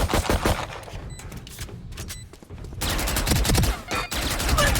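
Rapid bursts of automatic gunfire from the video game Valorant crackle loudly and almost continuously, with brief gaps between volleys and dense, overlapping shots.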